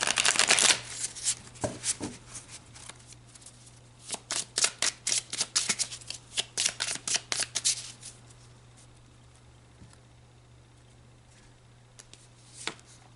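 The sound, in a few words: shuffling tarot cards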